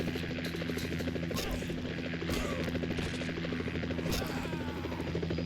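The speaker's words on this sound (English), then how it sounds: "A helicopter comes into the area" A helicopter in Condemned: Criminal Origins thrums steadily with fast rotor chopping and a droning engine hum, holding a constant moderate level throughout, with a few brief sharp clanks over the top.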